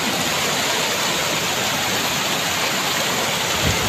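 A flooded, muddy river rushing past, a constant dense roar of flowing water close by with no pauses, no voices heard.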